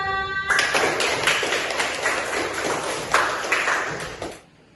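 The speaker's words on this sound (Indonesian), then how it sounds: "tepuk tangan semua" Participants in a classroom teaching session clap together in a quick burst of scattered hand claps that build then stop abruptly, following a short tone at the start.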